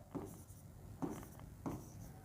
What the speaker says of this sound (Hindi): मैं एक संख्या लिखता हूँ आपको 3249